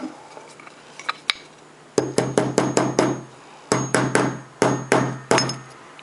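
A hammer taps repeatedly on a small metal object, sharp close clicks coming in quick bursts of several strikes with short pauses between.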